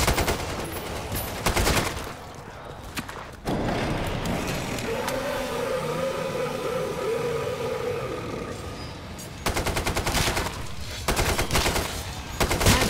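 A backup weapon in the game Killing Floor 2 fires loud, rapid bursts at close range. One volley opens the passage and a second closes it, with a quieter stretch of ambient game noise between them.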